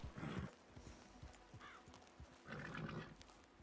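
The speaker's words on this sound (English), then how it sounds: "Okay, but I hear horses." Horses walking in the RedM roleplay game, faint hoof clip-clops scattered throughout with soft snorting and breathy whinnies, heard from a short distance without talk.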